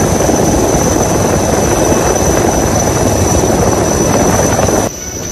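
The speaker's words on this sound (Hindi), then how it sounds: "देखिए किस तरह से इंडियन कोस्ट गार्ड का जवान हेलीकॉप्टर से उस छत पर उतर रहा है" An Indian Coast Guard helicopter hovers over a flooded rooftop in Gujarat during heavy rain, its rotors giving a loud, close, chopping roar with a high whine, then cutting off abruptly near the end.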